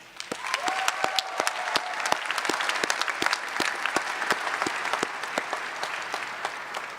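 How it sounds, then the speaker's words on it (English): An audience at a commencement ceremony gives a warm round of applause, a sustained patter of individual claps from a moderately sized crowd, steady for several seconds and close by. "please take this time to give them a warm round of applause again"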